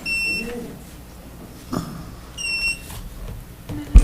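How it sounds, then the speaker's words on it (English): Two short bursts of high electronic beeping, one at the start and another midway, over faint room noise and a brief voice. "A lot of beeping."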